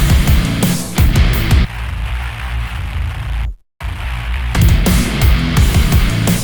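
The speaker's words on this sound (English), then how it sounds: "Got to be one of the nastiest bass sounds I've ever put together." A gritty, crunchy bit-crushed synth bass with harsh noisy top end pulses loudly, briefly cutting to silence before returning.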